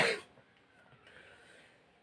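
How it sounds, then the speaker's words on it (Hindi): A single sharp cough from a teacher during a geography lecture at the start, close and loud, followed by quiet room noise. "आज मुझे बहुत खांसी आ रही है"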